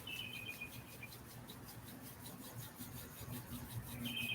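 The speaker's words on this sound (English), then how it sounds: "rubbing your hands together, creating heat" Palms rubbing briskly together to build warmth during a yoga flow, a faint, rhythmic swishing rasp repeating steadily, quiet and close.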